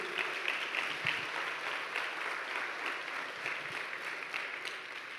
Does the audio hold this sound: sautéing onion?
no